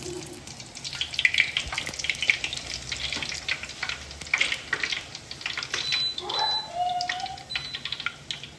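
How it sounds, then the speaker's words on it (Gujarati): Puris fry in hot oil with a crackling sizzle that bubbles up in irregular bursts, close and fairly loud, joined by a few light clinks and some brief background sounds. "ચાલો પૂરી તળવાની ચાલુ થઈ ગઈ છે."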